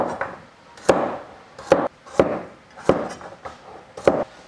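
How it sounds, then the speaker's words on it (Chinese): A knife chops through a fresh red carrot on a cutting board, cutting it into small roll-cut chunks for Sichuan braised lamb, with about six sharp evenly spaced knocks and soft shuffling between the cuts. "刚才扯回来的这个红萝卜，切成这样子的小滚刀块就行"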